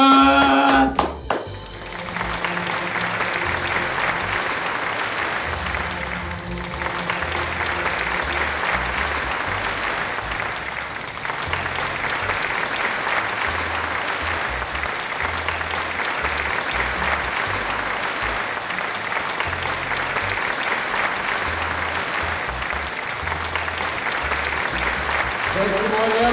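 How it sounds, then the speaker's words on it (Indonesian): An audience gives sustained, lively applause for the cast of a high school Snow White theater play, continuous dense clapping at steady loudness from a crowd, with a few louder hits at the start. "beri tepuk tangan yang sangat meriah sekali lagi kepada seluruh pemain pertunjukan teater drama Snow White"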